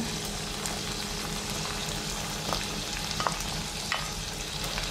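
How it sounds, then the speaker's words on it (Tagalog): Carrots and mushrooms stir-fry in a pan, sizzling steadily with occasional soft scrapes and clinks of stirring, no voices present. "ilalagay na natin itong ating carrots and yung ating mushroom"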